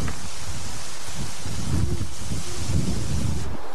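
Steady wind buffeting the microphone outdoors at Willow Creek off Highway 6, a constant rushing roar with low rumbling gusts swelling toward the middle and end.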